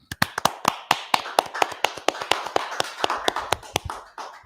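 A class of worshippers claps together in a steady, even rhythm, sharp distinct hand claps repeating about five per second, close and clear with no talking over them.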